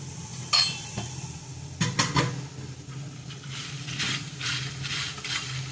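Coconut being grated on a coconut scraper for a Mangalore-style crab sukka, with irregular scraping and clinking strokes at close range and a steady low hum underneath, no talking.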